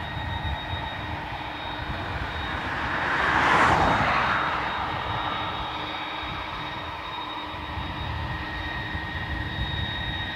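A Delta A330 airliner arriving at Dublin Airport: a broad jet roar swells to a peak, then slowly fades, heard from a distance over a steady engine whine and constant background hum.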